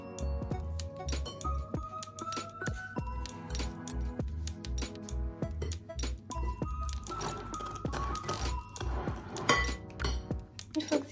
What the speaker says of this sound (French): vous allez venir mélanger ça à l'aide du fouet